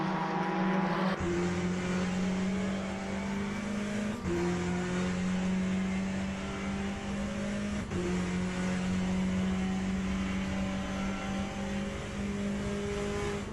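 A GTE race car engine drones loudly and steadily in Le Mans Ultimate at Sebring, with sustained high revs and brief dips at gear changes as cars run close together.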